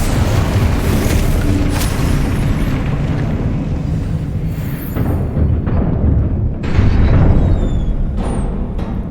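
Spell explosions in Hogwarts Legacy, a continuous dense rumble of booming blasts and bursts, loud and close with little pause, a few sharper pops near the end.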